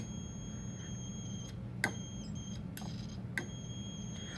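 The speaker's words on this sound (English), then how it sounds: "the buzzer is going off" A thin, high-pitched buzz from a small electric buzzer in a homemade circuit holds steadily at low volume, interrupted briefly by a few sharp clicks.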